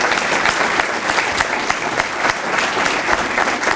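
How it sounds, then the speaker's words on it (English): A seated audience at a city public safety awards ceremony applauds fire rescue members with dense, steady clapping that holds at an even, loud level throughout. "we should all give them a nice round of applause"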